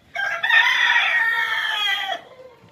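A desi rooster on a rooftop among chickens gives one loud, drawn-out crow lasting about two seconds, close and clear with no talk over it.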